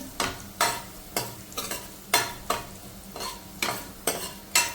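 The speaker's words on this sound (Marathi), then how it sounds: "हलका लाईट ब्राऊन होईपर्यंत परतून घ्यायचं" Garlic sautéed in a pan until light brown for a simple yellow dal, with rhythmic stirring scrapes and sizzle recurring about twice a second, close and clear, no voices.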